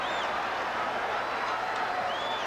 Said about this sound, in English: As this capacity crowd goes bananas.